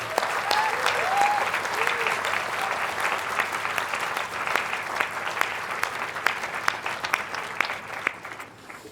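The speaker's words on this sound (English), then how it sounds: "Graduates, please raise a round of applause for your family and supporters who've helped you get to this point today." University graduation audience applauding, a broad crowd of clapping that starts full, then thins into scattered louder individual claps, with a few voices heard briefly near the start.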